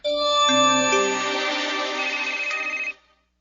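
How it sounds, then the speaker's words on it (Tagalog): A phone rings with an incoming call, a steady electronic melodic ringtone playing loudly for about three seconds before cutting off abruptly, with no talking over it. "Oh, ano nanawag man ni si Mirna nga yung duty man."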